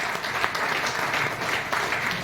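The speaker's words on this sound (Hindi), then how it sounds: "जोरदार ताली होनी चाहिए" Audience applause at a leaders' business event, a dense, continuous burst of clapping from many hands throughout, fairly loud and close with no talk over it.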